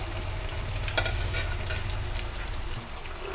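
Jackfruit seed vada deep-frying in hot oil, a steady soft sizzle and crackle running throughout, close and alone with no talk, with a brief louder pop near the start.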